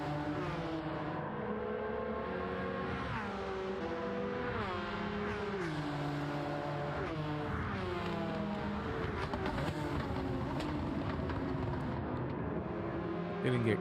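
A Porsche race car engine drones steadily in Gran Turismo 7, its pitch climbing and dropping through gear changes in a continuous, fairly quiet whine without pause.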